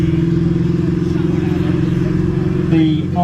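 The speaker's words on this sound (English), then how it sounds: "it is in fact an American Cummins diesel engine, 15-litre V8." The 15-litre Cummins V8 diesel engine of an M110A2 self-propelled howitzer idles with a steady low rumble and rhythmic throb throughout, with a brief clatter near the end.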